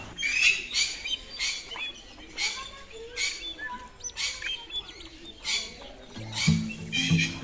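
Many birds in an aviary in Pelling, including Australian emus and owls, chirp and call over one another in a busy, continuous chorus, with occasional squawks and a lower hooting call near the end.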